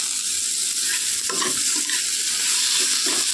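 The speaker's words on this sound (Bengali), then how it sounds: "রেডি করে রাখা টমেটোটা আর দিয়ে দেব দুটো কাঁচা লঙ্কা ভালো করে মিশিয়ে নেবো" Tomato and two green chillies being stirred into a hot frying pan, a loud continuous sizzle with scraping stir strokes, close and alone without talk.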